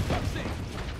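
A spike being planted in Valorant gives a brief, quiet mechanical clicking and ratcheting with a faint pop, lasting about a second.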